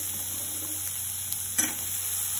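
Chopped bottle gourd frying in hot oil in a pan for a Kerala-style mezhukkupuratti, giving a steady soft sizzle with a brief louder crackle and stir partway through, no talking.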